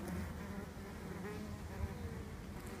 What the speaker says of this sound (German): Und die Wespen sind da auch gleich da.